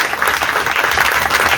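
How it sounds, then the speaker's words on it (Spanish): Church congregation applauding during a Spanish-language sermon on the Holy Spirit, a steady, dense burst of clapping filling the space throughout, loud and close with no voices over it. "Señor, esto merece un aplauso."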